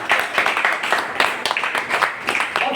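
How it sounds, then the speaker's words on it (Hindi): An audience at a business talk breaks into dense, steady clapping that runs for a few seconds, close and fairly loud. "एक शानदार ताली बजाइए"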